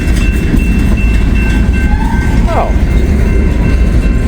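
A coal train rolls slowly along the rails in sunshine, a loud steady rumble filling the whole stretch, with a brief squeal partway through and a person exclaiming once.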